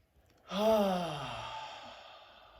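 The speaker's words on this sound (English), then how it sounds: "Let's take one more deep breath, please." A single deep breath during guided meditation: a soft inhale followed by a long, audible exhale that fades away, close and alone in a quiet room.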